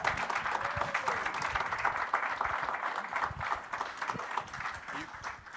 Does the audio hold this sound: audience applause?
yes